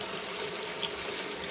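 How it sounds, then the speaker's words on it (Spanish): Water runs steadily from a tap or hose while a chicken (rooster) is washed, a constant close gush with no pauses and no talk. "y aquí ya está lavando el pollo"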